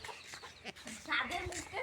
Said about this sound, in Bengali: এই দেখেন আমাদের বাচ্চা দিয়েছে মুরগি